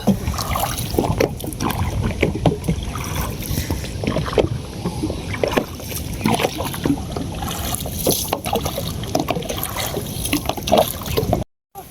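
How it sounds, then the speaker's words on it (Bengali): River waves slosh and churn around a boat in a steady, loud wash of water and wind, continuous for the whole stretch before cutting off abruptly near the end. "নদীর ঢেউ প্রচুর।"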